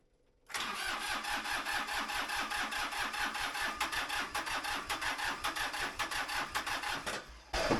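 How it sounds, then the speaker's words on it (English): A small diesel tractor engine, glow plugs cycled and no ether used, cranks over in a long rhythmic chugging run of the starter that continues for several seconds before cutting off. "let's crank it without any ether so we can do a test"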